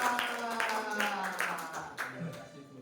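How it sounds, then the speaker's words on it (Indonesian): Applause at a church alumni reunion, a group of people clapping in uneven bursts that fade out over a few seconds, with voices underneath. "Ya, tepuk tangan"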